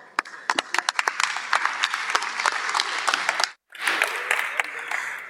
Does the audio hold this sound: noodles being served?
no